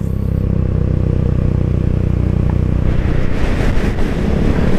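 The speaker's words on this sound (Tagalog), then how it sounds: "Lipad ako ng hangin, ah." Strong wind roars steadily across the microphone during a long-distance motorcycle ride from Manila to Aklan, a loud continuous rush with a faint engine drone beneath it.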